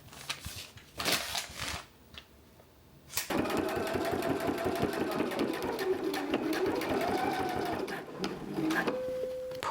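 A sewing machine edge stitches around faux suede cuffs, a steady close whirring run of stitches after a few short bursts and pauses, with faint background noise.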